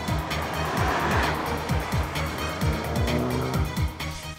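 A Volkswagen Golf GTI accelerates hard, its engine note climbing repeatedly through rising sweeps with brief drops between gear changes, loud and close against steady road and wind noise.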